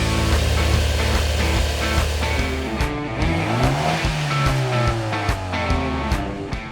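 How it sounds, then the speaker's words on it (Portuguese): A car engine revs hard under acceleration, its loud, close roar sweeping up in pitch again and again, with a brief squeal of tyres along the way. "Acelerar a máquina e ver o giro subir."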